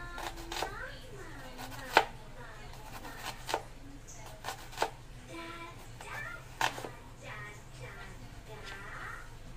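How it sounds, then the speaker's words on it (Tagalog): A knife chops an onion finely on a board in a home kitchen, giving a handful of sharp, irregular thuds spread across the clip while a person keeps talking. "Kasiwain ko lang tong sibuyas ng maliliit."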